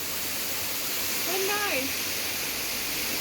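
A waterfall in the Catlins, New Zealand, roars as a loud, steady, broad rush of falling water close by, while a person speaks briefly over it.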